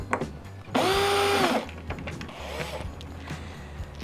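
A brief, close, high whirring spin of a driver with a Phillips bit, removing a part from the rear suspension of a Honda VFR motorcycle, lasting under a second amid quiet workshop clicks.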